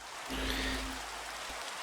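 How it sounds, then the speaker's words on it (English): Rain falls in the video game Minecraft, a steady, even hiss of pattering drops that holds throughout at moderate loudness. "My frame rate hasn't dropped because it's raining, which is good."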